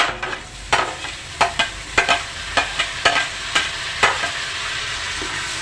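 Onion and tomato fry in oil for a spicy Maharashtrian misal, with about ten rhythmic scraping stir strokes cutting through a constant background sizzle.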